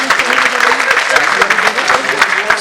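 Audience at an artists' gathering ceremony in Uttar Pradesh clapping loudly in a hall, a dense, continuous burst of applause with a few voices mixed in.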